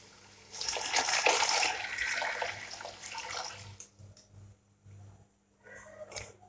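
About a litre of water is poured into a cooking pot of fried masala for chicken, making a close, splashing gush for roughly three seconds that then tapers into gentle trickles and a faint clink.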